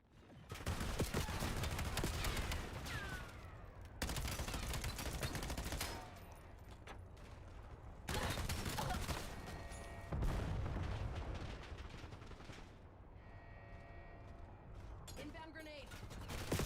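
Continuous heavy gunfire from the Black Ops 7 video game, shotgun blasts mixed into a dense, loud barrage of shots and booms that carries on for the whole stretch with only brief dips.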